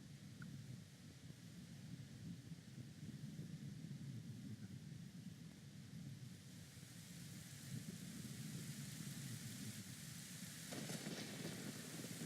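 In-game thunderstorm and rain in The Legend of Zelda: Ocarina of Time, a steady, quiet hiss of rainfall with a low rumbling undertone throughout, swelling slightly near the end, with no talk.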